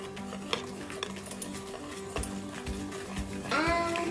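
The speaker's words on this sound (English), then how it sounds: "And now we're going to mix everything." Flour, baking powder and baking soda are stirred together in a bowl for a cake batter, with a utensil clinking and scraping against the bowl in quick, close, irregular strokes.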